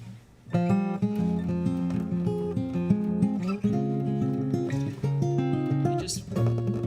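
Acoustic guitar played alone without a capo, strummed and picked chords ringing with sustained notes in a steady rhythm, close and clear.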